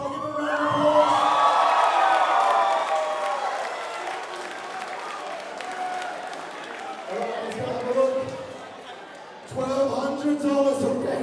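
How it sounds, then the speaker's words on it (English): A crowd at a team championship event cheers and applauds loudly for Mandy, CEO of the Pancake Pub, with whoops over steady clapping that fades, then swells again briefly near the end. "Give her a round of applause."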